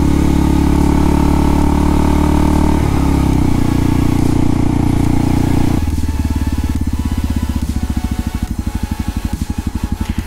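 A Kawasaki Vulcan S motorcycle being ridden, its engine droning loudly and steadily, with pitch changes that sound like gear shifts around three and six seconds before settling into a throbbing pulse. No one speaks.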